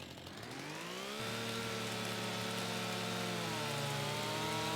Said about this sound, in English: It's not the best animation with the chainsaw because clearly this chainsaw isn't going to cut this tree like this, but it's a game